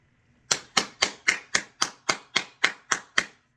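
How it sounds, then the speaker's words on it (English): Ten crisp hand claps land at an even, steady pace, close and alone against near silence. "give yourselves a round of applause"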